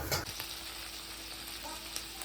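Onions fry and are stirred in oil in a pan while a spicy chicken fry is being cooked, giving a steady close sizzle with faint scraping and no talk.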